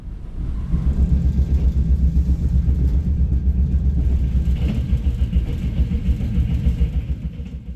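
A steady, heavy rumble of a Korean Mugunghwa passenger train rolling through mountain country, loud and continuous with a deep low drone throughout.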